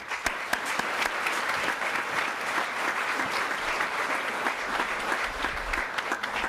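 Audience applause fills a school commencement ceremony for the class of 2024, a steady, dense wash of many hands clapping at fairly close range, sustained evenly throughout.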